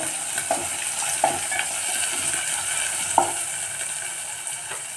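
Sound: spices frying and being stirred in a pan for masala

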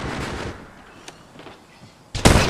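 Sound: gunfire in Apex Legends Mobile video game

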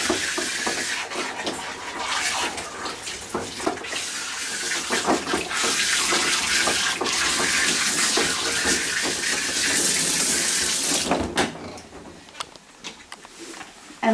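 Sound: water running while rinsing a dog's coat

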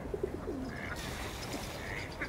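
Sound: duck

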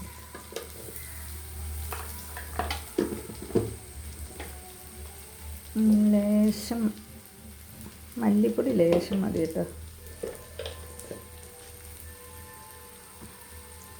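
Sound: chili and coriander powder frying in a pan

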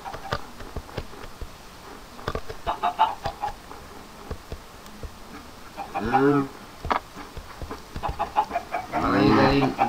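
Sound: chickens clucking in Minecraft video game

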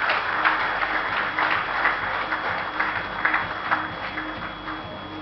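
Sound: audience applause at an awards ceremony

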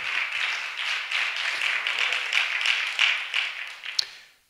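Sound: congregation clapping hands in church

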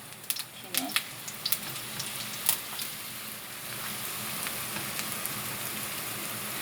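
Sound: kimchi pancake batter frying in oil

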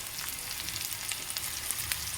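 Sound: onion frying in pan

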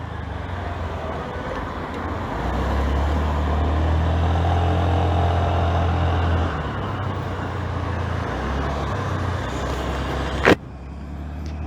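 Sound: 2023 Honda Activa 125 scooter riding

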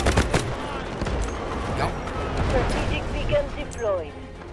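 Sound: gunfire in Delta Force video game

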